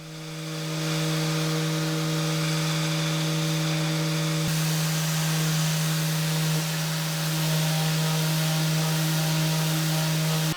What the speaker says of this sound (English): I could really stand to put a much skinnier blade in that bandsaw